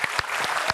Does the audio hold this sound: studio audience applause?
yes